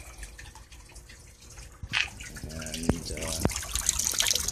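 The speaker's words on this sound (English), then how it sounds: "Water's being agitated now, I just need to add some more aeration to it." Water churning and dripping inside a siphon test tank as it is agitated, a steady wet trickle with a few sharper splashes and drips, close up, with brief voice-like tones and faint talk partway through.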